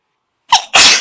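One close, loud sneeze: a quick intake of breath, then a sharp explosive burst that cuts off abruptly.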